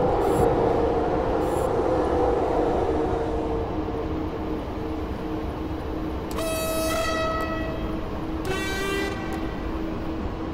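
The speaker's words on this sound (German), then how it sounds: "Dann kommt noch mal eine S-Bahn." An S-Bahn train arrives at the new airport station with a continuous rumbling roll, then sounds two loud tonal horn blasts a couple of seconds apart, nearby and clear above the rail noise.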